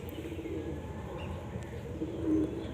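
A pigeon coos softly amid a low, continuous murmur of birds, with a slightly louder rolling call toward the end.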